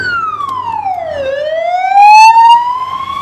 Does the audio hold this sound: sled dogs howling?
no